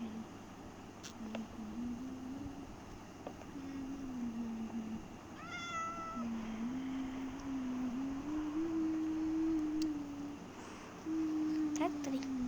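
A pet cat meows repeatedly at home, a series of drawn-out, tonal cries of varying pitch spread across the clip over a low background hum.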